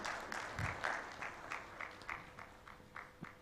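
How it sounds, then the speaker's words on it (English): Sparse, fading applause at a national healthcare quality improvement conference, a handful of distinct claps tapering off at low level with no speech. "Big round of applause for Dr. Nyeko."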